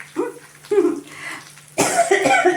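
Two short, close coughs come a moment apart, followed by a louder, rougher burst of coughing.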